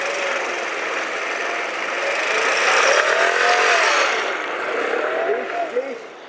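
A motor scooter rides off on a test run along a busy street, its engine buzzing and rising in pitch as it moves, fairly close and steady.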